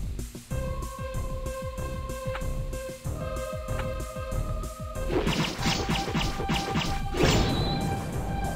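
Dragon Ball Z-style fight effects in the Epic Battle Fantasy video game: rapid, repeated crashing punches and thwacks with swishes over steady tonal game music, growing denser and louder toward the end.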